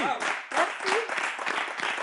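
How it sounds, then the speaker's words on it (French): A studio audience on a French-language singing talent show applauds, a dense patter of clapping that runs throughout beneath a presenter's voice. "On applaudit."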